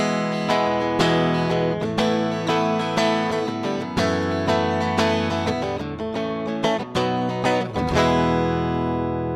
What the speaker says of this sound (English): This is the sound of the magnetic pickup.